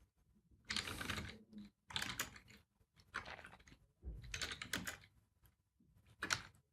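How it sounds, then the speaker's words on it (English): Typing on a computer keyboard, close and quiet, in several quick bursts of rapid key clicks separated by short pauses, with no voices. "we're going to type in the artist name."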